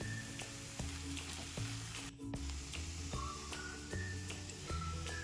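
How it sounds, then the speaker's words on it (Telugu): Spices sizzling and frying in a pan with garam masala, chili powder and salt for raw mango paratha, a steady close crackling hiss with occasional stirring scrapes and no talk. "వీటిని అన్నిటిని ఫ్రై చేసుకుందాము"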